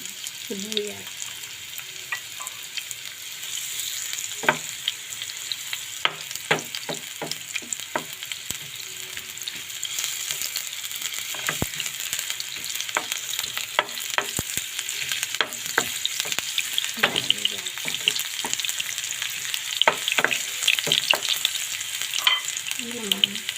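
Chopped onions sizzle and crackle steadily in a hot pan, with a utensil scraping and stirring at irregular intervals throughout, close and moderately loud without talk.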